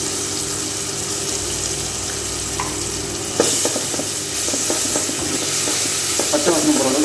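Ginger garlic paste hits golden fried onions in a pan for mushroom biryani, a steady sizzle that flares louder partway through, followed by repeated scraping and clattering stirring strokes, close up.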